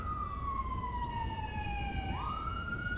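An ambulance siren in the GTA V LSPDFR police game wails in a long falling sweep and then jumps back up, loud and clear over a low engine rumble, with no talking.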